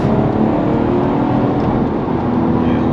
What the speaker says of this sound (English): 5200 RPM, hard cut limiter, so that's just for showing off.